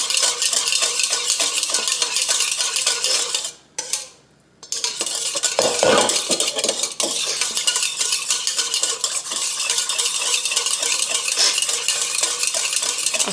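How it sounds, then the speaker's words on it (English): A cheesecake salad mixture with milk whisked in a bowl, a dense, rapid, continuous scraping rhythm that pauses briefly midway and resumes, loud and close with no talk. "We're gonna whisk it up real good, and we're gonna let it sit for about 2 to 3 minutes"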